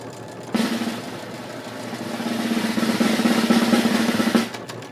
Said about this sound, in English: There's something wrong with my machine, Ed.